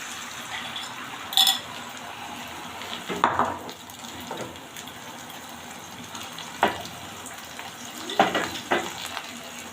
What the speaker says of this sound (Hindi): तो इधर हमने ये अपना ऑयल जो है वो दोबारा उसी पैन में ही डाला और थोड़ा सा अंडा आधा हमें डाल देते हैं।